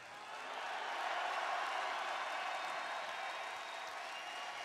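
A large concert crowd at a symphonic black metal show applauds and cheers in a broad, steady wash of clapping, heard from within the audience and holding for several seconds with no talk over it.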